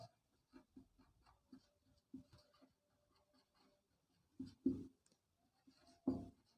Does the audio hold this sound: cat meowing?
no